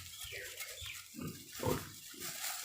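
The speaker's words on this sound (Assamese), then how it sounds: "গাহৰি পোৱালি" Piglets on a pig farm in Assam grunt and snuffle in a quick run of short, close oinks, a low, busy chorus with no voices over it.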